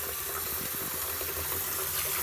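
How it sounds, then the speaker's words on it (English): Warm tap water pours steadily into a bathtub with a hard water stain, a constant close rushing gush with no break. "I'm just going to fill that up with some warm water"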